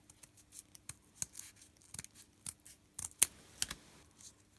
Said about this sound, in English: And then cut from this edge.